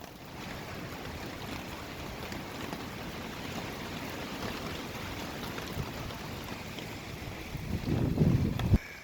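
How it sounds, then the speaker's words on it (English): Rainstorm with wind outdoors at a backpacking campsite in Colorado's San Isabel National Forest, heard as a steady broadband wash of rain and gusts with wind buffeting the microphone, rising louder near the end. "I'd rather not do it in the middle of a rainstorm."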